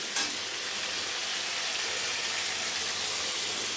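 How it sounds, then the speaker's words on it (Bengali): Chicken and onion frying together in a pan, a dense, loud, steady sizzle that fills the whole moment, close-up, with no voices. "এই যে চিকেনের সঙ্গে পেঁয়াজও ভেজে নিচ্ছি"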